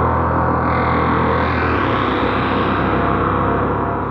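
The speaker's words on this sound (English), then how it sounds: "We actually have the reverb, the delay, the modulation, and the distortion up there." A synthesizer demo at SUPERBOOTH22 runs through reverb, delay, modulation and distortion effects, giving a loud, dense, washed-out synth texture with a low droning tone that shifts partway through, all without talking.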